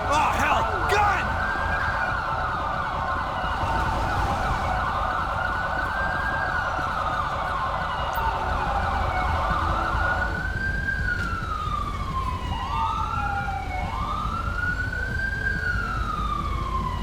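An ambulance siren in GTA V with the LSPDFR police mod wails loudly and continuously, first a fast steady warble and then slower rising-and-falling yelps, over a constant engine and road rumble.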